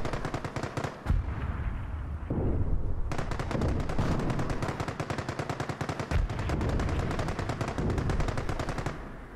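A base comes under fire in the Company of Heroes strategy game, with rapid machine-gun bursts rattling almost without pause alongside single heavier shots, loud and close for the whole stretch.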